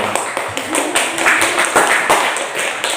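A high school class claps hands in a classroom, a close, fairly loud run of rhythmic claps with some room echo and faint voices mixed in.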